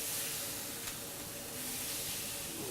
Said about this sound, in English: See a nice sizzling there.